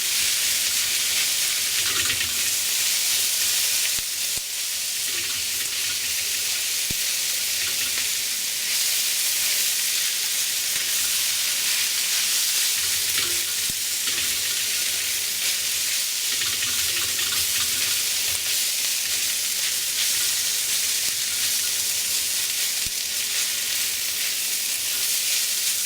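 Leftover turkey stir-frying with egg and soy sauce in a hot pan, a steady bright sizzle running throughout with soft periodic stirring and scraping sounds underneath.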